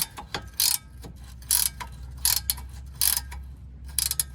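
A ratchet wrench works an 18 mm bolt loose on a Mini Cooper Clubman control arm, giving short, close bursts of metallic clicking separated by brief pauses, with no talking.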